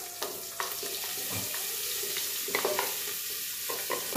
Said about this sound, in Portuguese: Então, agora eu vou colocar a cebola.